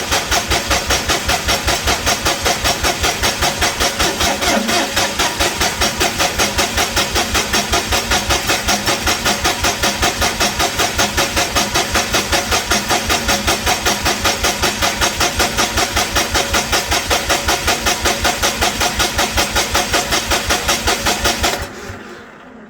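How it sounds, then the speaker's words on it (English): A Lincoln SA250 welder engine cranks on the starter with no fuel, giving a steady rapid rhythmic churning that runs loud and close for about twenty seconds before stopping abruptly. "We'll go ahead and crank it for a bit, see if we can build some oil pressure."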